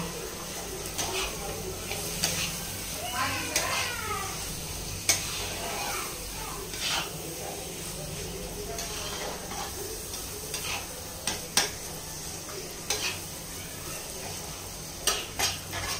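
Chicken fries in a pan with a steady sizzle, and a spoon stirs and knocks against the metal in scattered clicks and scrapes. A voice talks faintly in the background.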